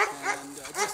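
Norwegian elkhound dogs outdoors in snow give a couple of short, close barks and yips within about a second, fairly loud against a quiet background.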